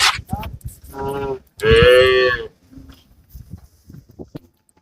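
A cow at a cattle market during the Kannapuram temple festival gives two loud, close moos, the second longer and deeper. People talk and bustle around it before and after.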